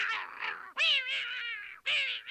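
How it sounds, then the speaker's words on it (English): A green cartoon cat meows three times in quick succession, loud and close, each call a drawn-out, bright, tonal cry with no talk over it. "Good heavens, a green cat."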